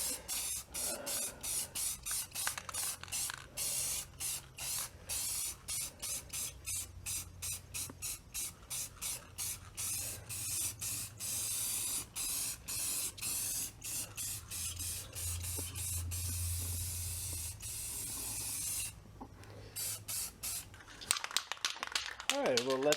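Hissing bursts from a spray can coating a body panel of a 1964 VW Bug, rapid pulsed sprays repeating steadily and close, ending in a flurry of shorter bursts.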